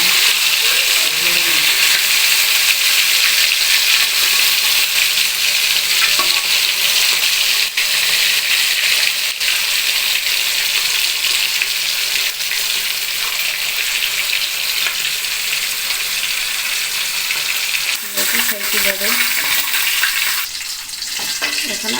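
A whole fish of about one and a half kilos fries in oil in a pan, giving a continuous loud sizzle with faint clinks of handling near the end.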